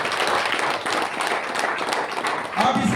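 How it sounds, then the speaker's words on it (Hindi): Audience at a seminar-style gathering clapping loudly on request, a steady dense burst of applause filling the whole few seconds with voices mixed in. "एक बार जोरदार ताली बजा दीजिए।"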